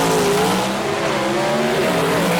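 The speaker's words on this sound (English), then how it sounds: "Look at the third gear wheelie right there for a C-Gas car" A Rambler C-Gas class drag car roars loud and close at a Southeast Gassers event on Lassiter Mountain Dragway, its engine tone steady and slightly wavering as it pulls hard, with faint tire noise mixed in and no talk.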